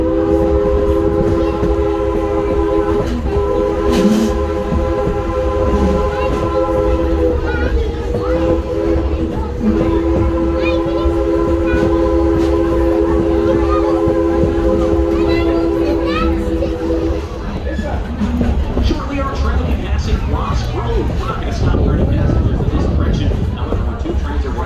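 A steam train on the Strasburg Railroad sounds a long, sustained whistle while rolling past, then the whistle stops and a loud rumble of wheels and cars continues, with voices in the background.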